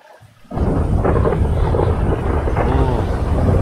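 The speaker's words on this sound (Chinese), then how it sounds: "超大雷声的" Loud thunder in the GTA 5 zombie mod cracks in suddenly after a quiet moment and rolls on as a heavy, sustained rumble mixed with rain-like hiss.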